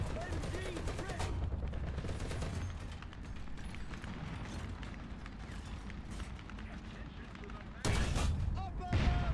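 Machine gun fire in a combat video game, with dense rapid bursts rattling on and off under battle noise, and a louder burst near the end.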